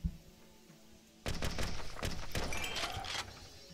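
Rapid bursts of gunfire from a weapon in the Zombotron video game crackle and pop in a dense volley for about two seconds after a quiet start, then cut off.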